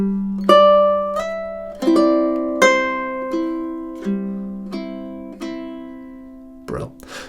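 Solo ukulele plays four measures of the Mexican folk song Cielito Lindo, with clear plucked notes and chords in a gentle waltz-like rhythm, close and unaccompanied, followed by a short handling noise at the end.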